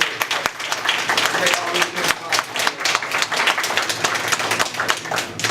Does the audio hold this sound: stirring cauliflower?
no